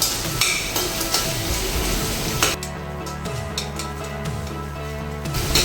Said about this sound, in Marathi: तर कांदा आपल्याला हलकासा तेलामध्ये तळून घ्यायचा आहे।